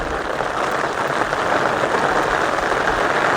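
Steady, dense monsoon rain pours down over a village in Gujarat, a continuous close hiss of drops hitting surfaces with no pauses and no voices.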